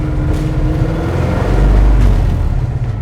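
A Ford GT40's engine, mounted right behind the driver, roars steadily on a drive, a loud, deep rumble that swells as the car accelerates, with no talking over it.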